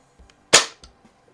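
A single sharp crack from a 1920s Haenel Model 1 .177 break-barrel pellet rifle fired in a garage, close and loud, followed by a quick faint thud.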